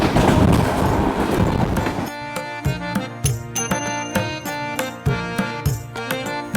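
Chilahati Express train running on the rails in rural northern Bangladesh, nearing its first stop at Biranpur station: a broad rumbling roar gives way to steady, rhythmic clickety-clack wheel beats on the rail joints, loud and close, with no talk.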